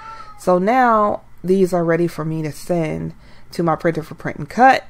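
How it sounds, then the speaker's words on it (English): A cat gives a series of loud, drawn-out meows close by, repeating in an uneven rhythm while a person talks over them. "Excuse my cat."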